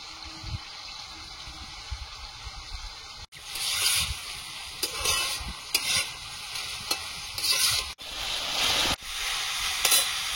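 Potatoes fry in a pan, sizzling steadily while a spatula stirs and scrapes them in repeated bursts, close and clear with no talk.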